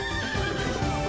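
A horse whinnies in a short, bright neigh from Disney Dreamlight Valley's alpine Wish Blossom Ranch, set over a thick musical background with faint hoof clops.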